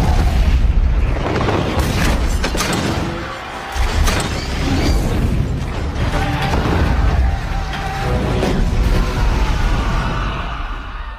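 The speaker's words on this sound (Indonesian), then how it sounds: "pasukan dari Saladin pun mulai menghujani kastil Yerusalem dengan meriam api yang begitu banyak" Continuous heavy cannon booms and rumbling blasts pile up, loud and dense, like a sustained bombardment of a castle with no pauses.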